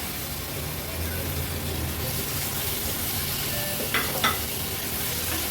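Cleaned squid go into masala frying in a pan on a medium flame, giving a steady, even sizzle with a couple of light clinks from the pan near the end.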